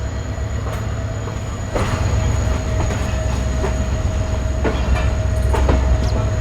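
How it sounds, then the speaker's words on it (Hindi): The Tezgam Express rolls along steadily with a constant loud rumble, wheel clatter ticking through it and a faint squeal, with no voices. "अरे बेहतरीन चलते कूदते जा रही है भाई ट्रेन"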